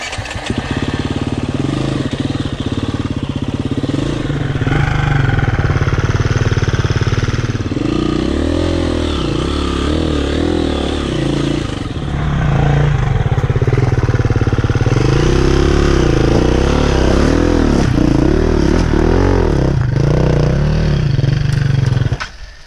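A KTM hard enduro dirt bike crawls through a rocky section, its engine loud and close, revving and bogging in uneven surges as the rider works over the rocks, then cutting off at the end.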